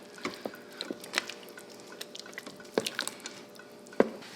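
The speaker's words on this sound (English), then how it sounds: "Stir this in and give it a try." Sausage and cheese being stirred into a pot of bean soup, giving soft wet squelches and drips with a few sharper knocks of the spoon against the pot, moderately quiet with no talking.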